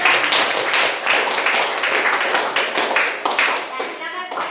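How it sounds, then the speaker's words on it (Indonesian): A classroom of students applauds a student group, with steady clapping from many hands close up that fills the whole moment without pause. "kita beri aplaus untuk kelompok 3."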